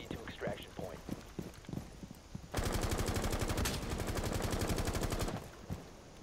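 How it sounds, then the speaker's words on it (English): Sustained automatic gunfire erupts mid-clip in the video game Rainbow Six Siege during a house hostage match, a loud rapid burst lasting about three seconds after quieter footsteps and background voices. "I'm just shooting that open to make them paranoid."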